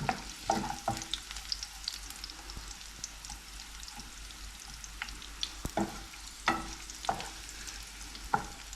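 A tarka sizzles and crackles in melted ghee, a quiet steady frying hiss broken by sharp spattering pops and stirring clicks at irregular moments, heard close.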